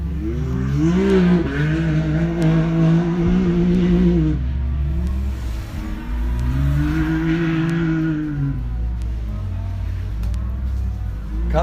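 A UTV racer, an RS1, roars past during a high desert race, engine revving loud and close with rising and falling pitch as it approaches and passes, then fades while a second surge of engine noise follows.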